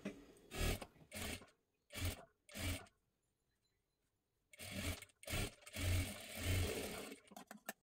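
A sewing machine runs a double line of stitching along a blouse sleeve seam, in several short bursts of whirring motor and rapid needle clatter separated by pauses, with longer continuous runs near the end.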